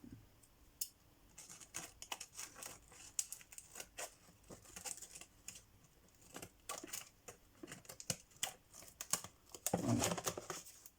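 Scissors make small cuts and trims in milk carton packaging, giving irregular crisp snips and rustles of card and plastic at close range, with quiet handling noise between cuts and no talking.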